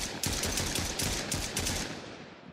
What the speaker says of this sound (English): and of course firing a weapon